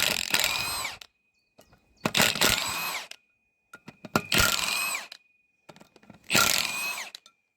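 A power tool spins out T50 bolts on the rear brake of a 2016 Ford Transit in four sharp whirring bursts separated by short pauses, close and fairly loud.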